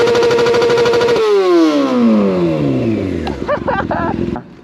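A Honda CB300F motorcycle engine revs hard near the listener, then drops sharply and winds down, followed by a few short sharp blips at a burger meet.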